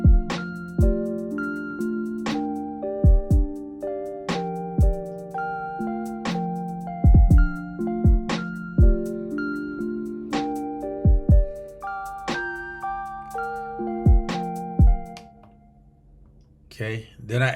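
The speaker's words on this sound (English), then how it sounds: "So then I added in the drums to go over this, which sound like this." Drum track made in Ableton Live layered over a tonal pad, with regular punchy kick and snare hits in a steady groove; the music fades near the end.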